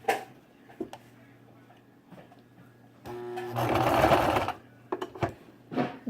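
A sewing machine stitches a seam on baby leggings, with a few soft ticks and taps before a loud, steady whirring run of about a second and a half, then brief clicks as it stops.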